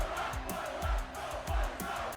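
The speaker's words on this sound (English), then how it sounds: "They went all over to get authentic crowd noise, and it will be in this game." Stadium crowd noise from the College Football 25 video game, a dense roar with rhythmic chanting pulses and thumping beats repeating at a steady pace, fairly faint and heard at a distance.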